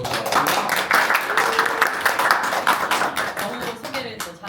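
A room full of people claps steadily, a dense patter of hands that holds for several seconds before thinning slightly at the end.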